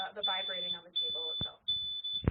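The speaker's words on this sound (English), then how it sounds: "I'm going to pull my mic a little bit closer so that you can hear the alarm, the audio alarm, as well as the vibrating on the table" A SPIR Ace handheld spectrometer sounds its detection alarm in three steady high-pitched beeps on a table, under a man's close speech and a few thumps.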